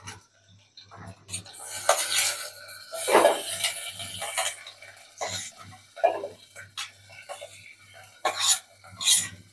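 Chopped tomatoes tipped into a pan of brinjal for a tomato brinjal fry, giving clattery pan and utensil knocks and stirring scrapes in bursts, fairly close, with a low steady hum underneath.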